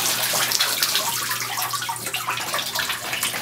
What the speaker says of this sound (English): The water is expelled on the top.